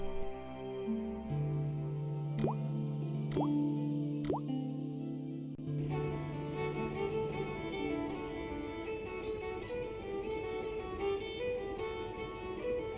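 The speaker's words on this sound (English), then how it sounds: "I shut off the faucet as tight as I could, but it kept on dripping." Water drips from a faucet in the adventure game Broken Sword, three or four distinct plops over a sustained musical score before the music shifts.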